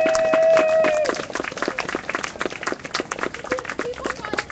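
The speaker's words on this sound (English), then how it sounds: "I think we should give Shakti a round of applause for all the work she's done." A round of applause at a Los Angeles general assembly, a crowd clapping steadily at moderate distance after a brief tone, continuing for several seconds.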